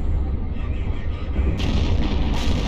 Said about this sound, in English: That explosion, that's pretty impressive.